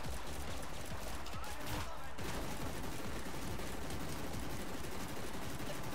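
A battle cannon fires in the DEATHRUN TV arena shooter game, a dense barrage of rapid blasts and explosions that stays loud and continuous throughout.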